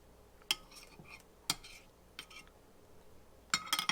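Stirring a marinade with tofu in a pan: a few sharp utensil clinks and scrapes against the pan at irregular intervals, quiet and close, ending in a quick cluster of knocks.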